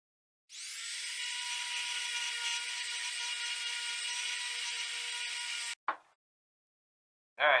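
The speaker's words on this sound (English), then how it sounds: "I'll go ahead and go through each one, doing the sanding" A power sander works over the wooden puzzle joints of a CLC Passagemaker dinghy, a steady high whirring drone that runs for several seconds, cuts off, then gives two brief closing bursts.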